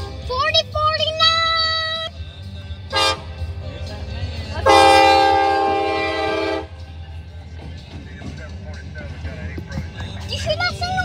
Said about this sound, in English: We caught the train.